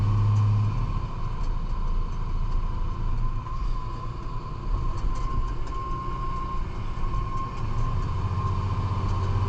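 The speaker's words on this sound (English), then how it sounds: "There's the car that's gonna go flying around us." A car speeds up to pass a box truck on Route 3, heard from inside the truck cab as a steady, loud road and engine rumble with a constant droning hum throughout.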